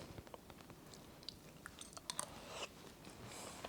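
Someone eats kimchi stew with fatty cooked meat, soft close chewing and a few small crunchy bites, quiet and alone with no talk.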